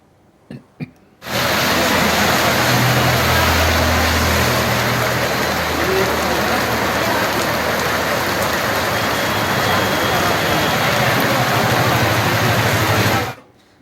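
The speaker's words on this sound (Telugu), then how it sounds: "హైదరాబాద్లో భారీ వర్షం పడింది" Heavy rain pours down in Hyderabad as a loud, dense, continuous roar that starts abruptly after a couple of faint knocks and holds steady for over ten seconds before cutting off.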